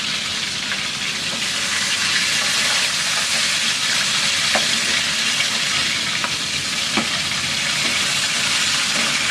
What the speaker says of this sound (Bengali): মাছগুলি এক পাশ ভাজা হয়ে গেছে, এখন আমি উল্টাই দিব।